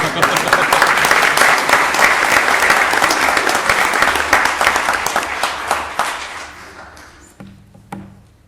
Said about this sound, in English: a round of applause for this group